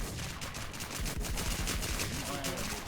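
Gunfire in a shooting video game runs as steady, dense shots under a continuous, busy game soundscape, loud and close throughout, with no clear gaps.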